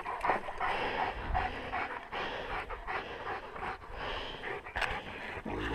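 Dogs pant rapidly and heavily close by during bush tucker harvesting in the outdoors, with a continuous breathy rhythm and the occasional snort.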